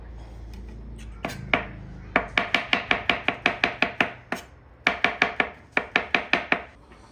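A knife chops mushrooms on a cutting board for a gluten-free breakfast frittata in rapid, crisp knocks. The chopping comes in several quick bursts with short pauses between them, close and clear with no talking.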